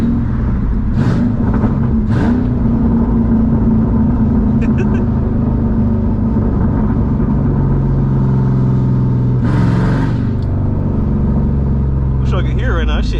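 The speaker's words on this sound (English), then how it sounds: "Here's some downshift for you guys" A 2007 Mustang GT engine rumbles and revs through downshifts, loud and close, with repeated throttle blips rising and falling over a continuous low drone.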